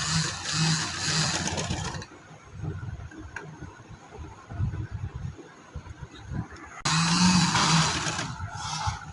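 A sewing machine runs in two bursts, feeding fabric through as it stitches, with a steady mechanical whir at the start and again at the end and a quieter pause between them.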